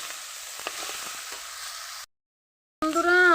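Mixed vegetables with cauliflower frying in a pan, a steady hiss and crackle for about two seconds, then a brief silence before a louder burst of sound returns.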